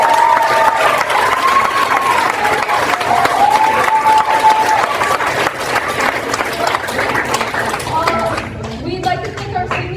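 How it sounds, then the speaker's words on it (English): Applause from the audience at a school theater club performance: loud, dense clapping mixed with crowd cheering and raised voices, easing off slightly toward the end. "Just give a round of applause."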